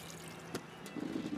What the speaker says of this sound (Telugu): చేతులు కడుక్కొని ట్యాప్ కట్టేస్తా.